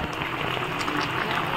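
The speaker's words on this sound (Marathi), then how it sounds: "कसा उकळ आलाय." A pot of curry with stuffed clams, cooked with a spice paste, bubbles at a rolling boil, a steady close hiss and gurgle with no pauses.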